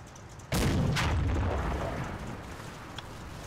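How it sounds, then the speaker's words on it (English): A Panzer IV tank gun in the WWII strategy game Combat Mission Final Blitz fires once with a sudden, loud boom, followed by a long rumbling decay and a faint later pop. "what's that Panzer IV shooting at?"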